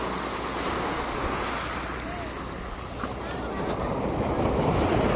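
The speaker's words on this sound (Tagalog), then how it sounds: "Lalaki ng alon." Big waves surge and break on a beach in a continuous loud wash, with steady wind buffeting the microphone throughout.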